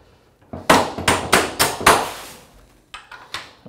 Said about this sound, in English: Tap the pin in place.